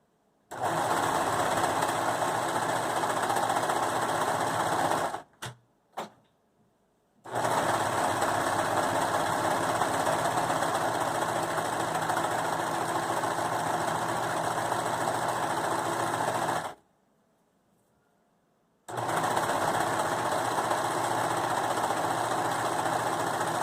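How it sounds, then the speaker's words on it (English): Serger sewing machine overlocking the long edge of a fabric pillowcase, a steady fast-stitching mechanical whir in long loud runs, broken by a brief stop with a couple of short bursts and a longer pause before it restarts. "So you're just sergering that whole edge all the way down to that corner"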